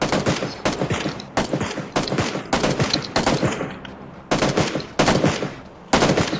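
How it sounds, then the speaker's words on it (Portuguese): Automatic gunfire in the video game PUBG: repeated loud, close bursts of rapid shots, each several tenths of a second long, separated by brief gaps across the whole stretch. "Não sei nem pra onde que ele tá atirando."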